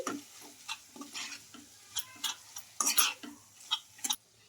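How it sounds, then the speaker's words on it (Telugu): Chicken mixed with turmeric and salt in a pan, a spoon scraping and stirring in uneven strokes with soft sizzling underneath, close and moderately loud. "ఇంకా ఈ సాల్ట్ పసుపు మొత్తం బాగా ఇలా కలిపేసుకోవాలి"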